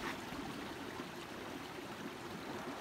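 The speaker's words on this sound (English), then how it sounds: "We found the first water coming down." A mountain creek in Neffs Canyon flows in a steady, soft, continuous rush of water, fairly faint and unbroken, with no voices.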